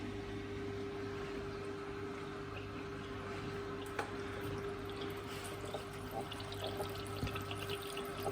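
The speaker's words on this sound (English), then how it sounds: "So let's see the sort of stream we get." An aquarium filter, freshly cleared of gunk, returns a water stream into the tank, making a steady low trickling wash over constant pump hum, with a few faint drips and splashes.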